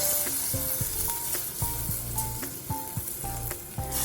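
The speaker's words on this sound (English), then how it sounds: "Now add a can of good quality whole peeled Italian tomatoes." Canned whole peeled Italian tomatoes hitting a hot pan for marinara sauce, with a loud steady sizzle broken by repeated clinks and scrapes of stirring, and no voices.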